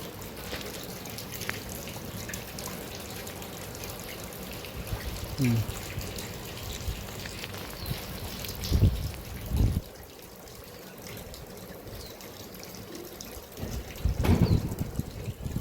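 Rainwater running through a village street after light rain, a steady trickling and flowing sound with a few brief, louder splashy bursts and occasional background noise.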